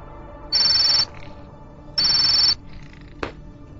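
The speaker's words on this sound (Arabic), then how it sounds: "ايه ده، مين اللي بيرن دلوقتي؟" A phone ringtone plays in two loud, steady electronic bursts of about half a second each, separated by a pause. A short click follows, and there is no talk.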